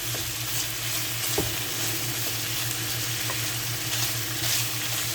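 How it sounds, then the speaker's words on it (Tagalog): Steady oil sizzle and crackle of bacon frying crispy in a pan, constant and close, with an occasional soft clink of a utensil. "prito natin hanggang maglutong-lutong siya"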